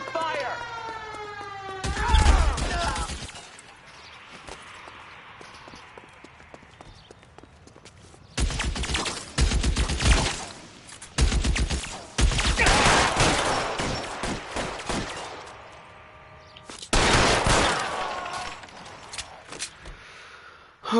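Video game shootout gunfire comes in several dense bursts of rapid shots separated by quieter gaps, loud and close, with a siren-like rising tone early on.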